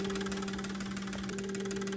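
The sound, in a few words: Honda car engine idling during idle test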